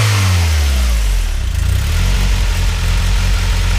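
A turbocharged Honda H22 engine revs hard close by, climbing quickly in pitch and then settling into a loud, rough, throbbing idle, with no voices.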